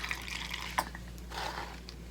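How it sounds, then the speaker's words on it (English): Acrylic pouring medium is poured into small cups for a puddle pour painting, a soft liquid trickle and glug with a brief splashy drip, close and quiet. "Gonna grab some pouring medium. Gonna fill it halfway"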